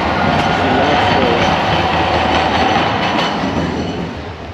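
A rail vehicle rumbles steadily past at close range, a broad continuous roar with faint clatter that eases off near the end.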